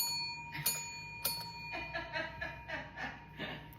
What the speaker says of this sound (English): Mom got me a bell.